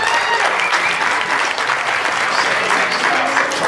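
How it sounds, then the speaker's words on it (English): Loud, sustained applause from an audience gathered at a Cadillac Racing V-Series team event, a dense wash of clapping filling the room steadily with no gaps. "Round of applause. Come on."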